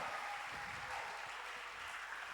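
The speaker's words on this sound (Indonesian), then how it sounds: "Kita berikan tepuk tangan sekali lagi untuk narasumber kita" A podcast audience at a Musda IX event claps for the guests in a short, steady burst of applause that holds evenly throughout.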